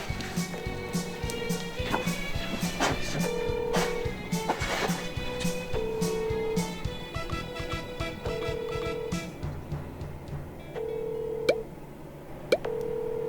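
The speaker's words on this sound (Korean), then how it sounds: "전화 갑니다." An outgoing telephone call rings out, with repeated short ringback tones and a few sharp beeps over faint handling noise and room sound, the tones recurring at a steady interval.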